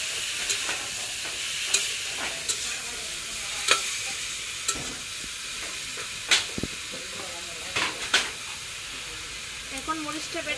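Eggplant and potato fry in hot oil in a home kitchen pan. A steady sizzle runs underneath, broken by sharp scrapes and clacks from the stirring at irregular intervals, close and fairly loud.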